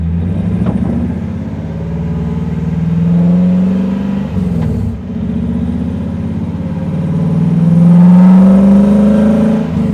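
A supercharged V8 drift truck engine rumbles and accelerates on an empty road, loud and near, with throttle swells rising and falling and a strong surge in the last seconds.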